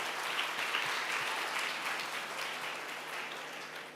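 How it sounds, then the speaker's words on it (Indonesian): An audience at a combined church Christmas celebration claps steadily, a dense wash of applause that holds for several seconds and then tapers off slightly, with no talking over it. "Kita beri aplaus sekali lagi."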